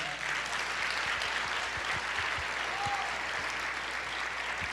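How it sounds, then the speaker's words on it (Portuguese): A church congregation applauding in praise during a worship service, a dense steady wash of clapping from many hands that holds evenly throughout. "Pode aplaudir o Senhor."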